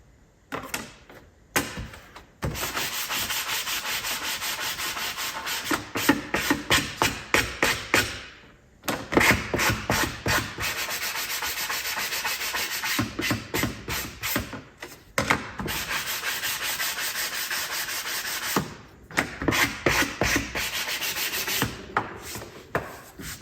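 Close, continuous hand sanding on a wooden decor piece, a steady scratchy rubbing in long strokes broken by a few short pauses, with no talk.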